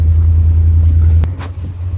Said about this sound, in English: I've had the truck running for a couple minutes now